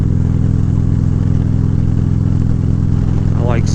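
A motorcycle rumbles steadily at night, its engine drone loud, close and constant with a brief rising whine near the end.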